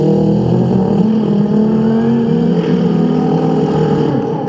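A car engine revving hard as it picks up speed on a road, a loud, steady, close roar with rising harmonic tones and no voices.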